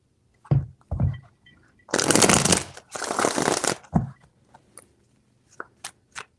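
Tarot cards being shuffled at close range: two long riffling bursts in the middle, with scattered card taps and clicks before and after, no voices.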